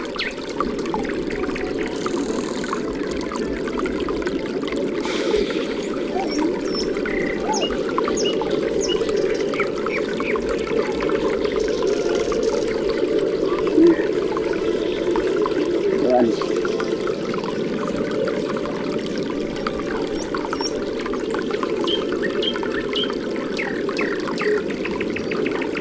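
River water runs steadily over stones in the Dominican highlands near Juncalito, a continuous close rushing wash with faint voices and occasional bird calls above it.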